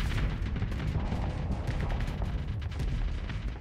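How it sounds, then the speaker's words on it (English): Rapid, continuous gunfire from point-defense turrets shooting down incoming missiles in the space combat game StarSector, a dense crackling barrage of blasts and booms with no letup throughout. "this one actually has some defenders. It's shooting down my missiles."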